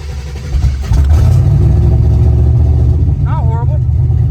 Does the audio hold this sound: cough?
no